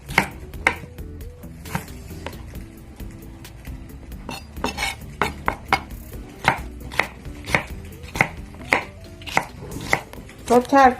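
Vegetables such as tomatoes and cucumbers chopped with a knife on a cutting board, a long series of crisp, close knocks in an irregular, quickening rhythm, with a few clinks of dishes near the end.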